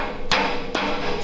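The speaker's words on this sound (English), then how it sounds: "This hammer has like no hitting force." Two sharp hammer taps about half a second apart, close and clear, as a Cerakoted burnt-bronze hub cap is driven onto a trailer wheel.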